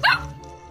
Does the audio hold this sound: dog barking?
yes